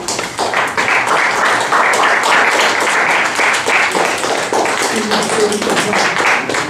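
At a Toastmasters club's 250th meeting, a roomful of people claps in a fairly close, lively burst, individual hand strikes audible within the steady wash, with a voice briefly heard beneath it.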